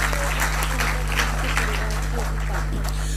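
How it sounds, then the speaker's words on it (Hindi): Audience applause welcoming a guest at the third foundation day event of the Sampark Kranti Parivar in Noida, steady clapping over a strong low hum, with faint voices mixed in. "जोरदार तालियों से आप इनका अभिनंदन कीजिए।"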